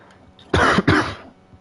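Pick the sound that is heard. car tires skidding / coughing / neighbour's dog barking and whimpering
coughing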